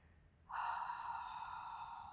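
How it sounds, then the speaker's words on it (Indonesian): A single long exhale is drawn out during a hamstring stretch, a close, breathy hiss that starts abruptly and fades slowly over almost two seconds in a quiet room. "dua napas lagi"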